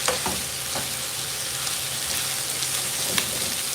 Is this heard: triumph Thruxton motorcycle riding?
no